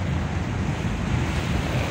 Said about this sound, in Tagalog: magalaw yung ating dagat na naman